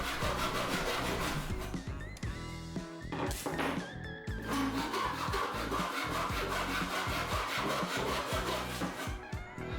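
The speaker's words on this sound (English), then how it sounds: "I switched to a hacksaw for a finer cut" A hacksaw cuts through domino pieces in rapid, even back-and-forth strokes, a loud close rasping that continues almost without a break, with a brief shift in tone midway.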